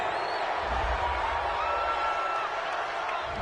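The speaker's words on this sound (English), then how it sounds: "This home crowd, they're happy with that call." A home stadium crowd in a PS4 football video game roars its approval of a penalty call on third down, a steady, dense wash of cheering that holds at an even level throughout without distinct peaks.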